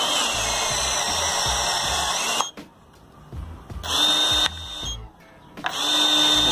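A Ryobi cordless cutter works through steel rod with a loud, steady motor whine and a strained grinding tone, stopping and restarting in bursts separated by quiet gaps.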